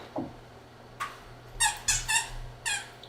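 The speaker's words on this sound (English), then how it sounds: "And now we hear the squeaky toys." Several short, high squeaks from a squeaky toy, in bursts with brief pauses, over a low steady hum.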